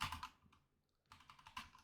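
Bursts of computer keyboard typing, a quick clatter of keystrokes, a pause, then another run of close taps with no talk.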